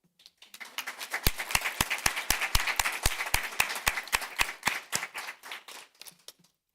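An audience at a Board of Education meeting applauds scholars and their parents. The clapping is steady and fairly even, swells quickly, holds for about five seconds, then thins out and stops.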